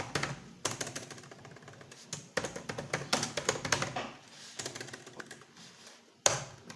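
Someone types a name on a computer keyboard into an Excel spreadsheet: quick bursts of close, crisp key taps with short pauses between words.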